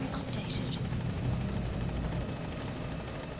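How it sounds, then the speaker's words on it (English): Helicopter in a Metal Gear video game, a steady rotor thrum and whine holding throughout at moderate level, with the rhythmic chop of the blades running faintly across the top. "I wonder if he's going to the helicopter that's incredibly loud and visual."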